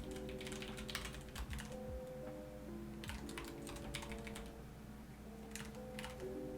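Keys clatter on a computer keyboard in irregular bursts of quick clicks with short pauses, close and fairly quiet, and no voices.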